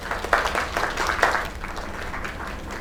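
A small crowd of characters claps in the video game Lake, a steady patter of applause with a few louder bursts near the start, fairly close and continuing evenly without talk.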